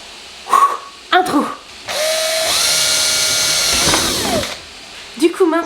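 A power drill whirs steadily for about two and a half seconds while small holes are bored for a homemade Christmas decoration, with someone talking before and after the burst.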